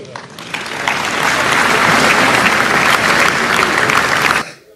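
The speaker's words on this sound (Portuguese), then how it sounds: "E aqui temos a classe política a bater palmas" Dense, sustained applause from a room of Portuguese politicians after the President's 5 October speech, loud and even for about four seconds before cutting off abruptly.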